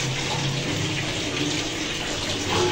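Tap water poured into a strainer of okra, a close, steady gushing splash like a running faucet filling a basin, continuous and fairly loud for a few seconds with no talk.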